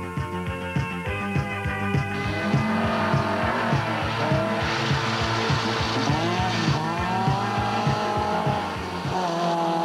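Rally cars from the 1987 Satakunta Rally in Finland race through a gravel special stage. Engines roar loudly and rev up and down through the gears, with tyres skidding, across nearly ten seconds of continuous driving.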